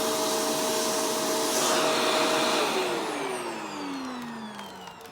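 A Shark Rotator Powered Lift-Away NV650 vacuum cleaner runs close by with a loud, steady roaring whine, its pitch sliding downward partway through as it begins to wind down.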